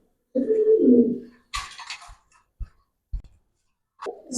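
Pigeons at a pigeon farm give a low, close coo, followed by scattered wing flutters and light taps, then another brief coo at the end.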